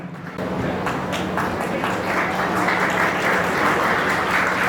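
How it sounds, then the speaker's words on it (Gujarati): Sustained crowd applause at a community appreciation event, beginning abruptly and holding steady and loud as a thick, even patter of many hands, with a few sharper claps standing out. "તાળીઓના ગડગડાટથી સાહેબને આપણે આવકારીએ"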